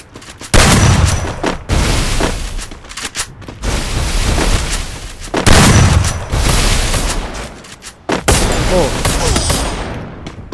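Loud, close bursts of automatic gunfire in a Free Fire battle royale match, rapid volleys broken by short pauses, the shots dense and booming.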